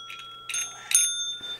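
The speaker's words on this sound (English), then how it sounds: "And every time they ring a bell," A bell rung by pets to earn a treat, two quick bright dings in succession with a ringing tail, close and fairly quiet, with no talk over them.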